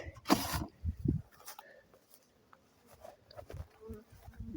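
Bees buzzing as the second row of hives is opened during preparation for moving them, a dense insect drone with a loud burst near the start and low thumps, then softer buzzing throughout.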